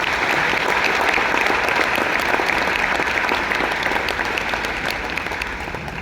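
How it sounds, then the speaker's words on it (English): An audience applauds at a TEDx event in Enugu, dense sustained clapping from a large crowd filling the room evenly from start to finish. "can we all give Chinedu and his team a round of applause?"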